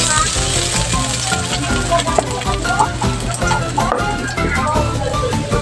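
Garlic and ginger sizzle in hot cooking oil in a pan, a loud, close, continuous crackle with scattered pops and light stirring clatter.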